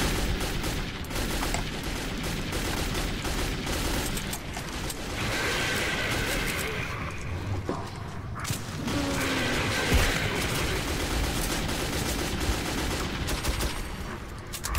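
Repeated gunfire in Metro 2033 sounds as irregular bursts of shots and rapid fusillades, loud and close, with occasional crashes and mechanical clatter. It runs nearly continuously for about fifteen seconds with little speech.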